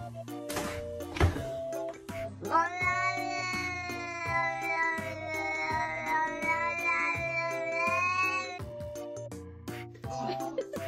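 A house cat shut out of its room meows repeatedly and loudly, with drawn-out plaintive cries and a long wailing yowl in the middle, mixed with occasional knocks and thumps nearby.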